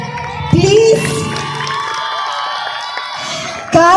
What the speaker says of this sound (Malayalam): അപ്പൊ നല്ലൊരു കിടിലൻ കൈയടി തരൂ ആദ്യം പ്ലീസ്